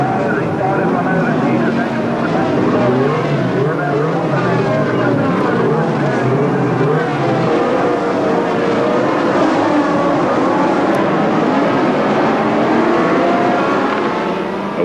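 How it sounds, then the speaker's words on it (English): Formula One turbo racing cars, including Renaults, Ferraris and Brabhams, roar away at the start of the 1982 South African Grand Prix. Their engines make a loud, dense, continuous howl that fills the whole stretch, with a voice faintly underneath. "Away they went with the 6 turbo cars in the lead, 2 Renaults, 2 Ferraris, 2 Brabhams."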